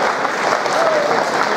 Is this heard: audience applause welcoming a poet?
yes